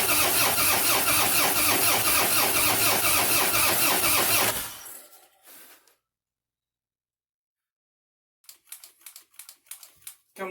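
Harley-Davidson motorcycle engine with the choke on, cranking and firing loudly for about four seconds before cutting out, followed by silence, then several short sputtering catches and pops as it tries to restart.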